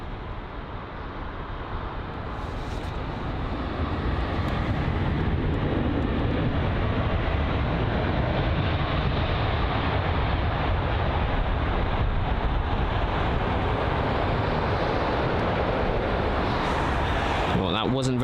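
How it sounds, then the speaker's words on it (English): Tunis Air A320neo airliner arriving at London Heathrow: a broad, steady roar of engines and rushing air that builds over the first seconds and then holds loud and continuous, with wind buffeting the microphone. "this is the Tunis Air A320neo from Tunis, obviously."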